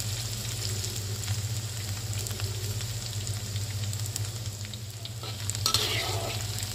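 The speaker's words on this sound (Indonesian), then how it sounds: "Saya goreng ya tempenya" Tempeh sizzles and crackles steadily as it fries in oil in a pan, a continuous close frying hiss with occasional stirring scrapes and a low hum beneath, no talk over it.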